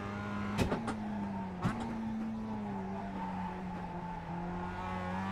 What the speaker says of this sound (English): As I say that, I nearly drift the whole corner.